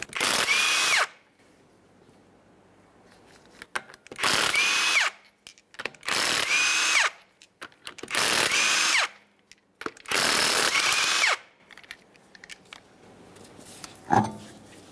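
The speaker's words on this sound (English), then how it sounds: "To remove the wheel, you'll remove all five of your 19 millimeter lug nuts" A power tool spins off the 19 mm wheel lug nuts on a 2013-2020 Ford Fusion 2.0L in five loud whirring bursts, each about a second long and separated by quiet pauses, followed by a sharp clank.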